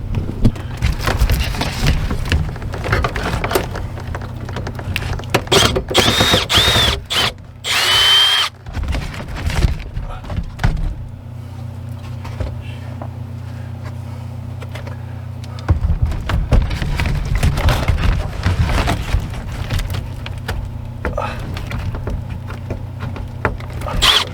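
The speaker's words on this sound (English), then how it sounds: "I'm just gonna unscrew it from the floor" A power drill unscrews screws from a floor, whirring loudly in long close bursts with short pauses and brief clicks and handling clatter between runs.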